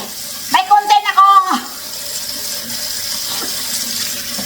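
Tap water runs into a sink while dishes are washed at home, starting with a brief loud gurgling splash and settling into a steady, softer stream of running water.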